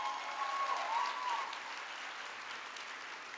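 A church congregation applauds the Lord during a women's ministry service, a dense, steady wash of clapping that swells briefly at the start and then holds evenly, with no talking.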